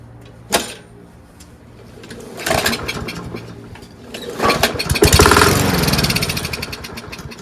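A Toro Recycler lawn mower engine with a rusty carburetor is pulled and cranks over: a sharp clack, then a couple of rough turning-over attempts building to a brief sputtering run, close and fairly loud.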